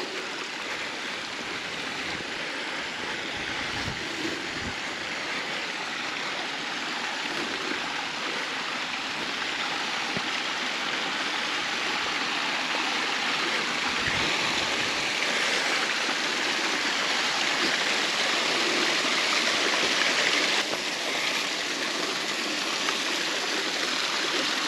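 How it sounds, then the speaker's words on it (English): Rain-swollen water rushing down the Boykin Springs spillway in the Angelina National Forest, a loud, steady roar of flowing water that stays constant for over twenty seconds, heard close with no voices. "Let's go check out the spillway."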